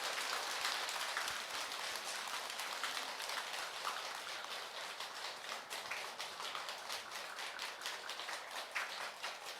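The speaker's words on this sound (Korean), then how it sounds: "큰 박수 부탁드리겠습니다" Sustained audience applause at a Buddhist temple following a dharma talk by a monk, a dense steady patter of many hands clapping continuously throughout, moderately distant with no voices.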